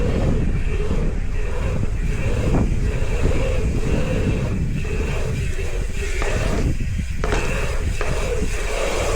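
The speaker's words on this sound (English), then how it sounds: "a bit windy" Wind buffets a small Insta360 GO3S action camera while riding laps at a cold pump track, a loud, continuous low rumble and roar with gusty swells and rolling noise underneath.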